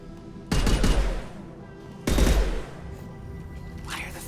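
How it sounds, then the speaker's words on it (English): Two heavy gunshots fired in the video game Mass Effect 2, each a loud booming crack with a lingering rumble tail, spaced about a second and a half apart over a quiet background. "Why are the first 3 shots slower than the rest?"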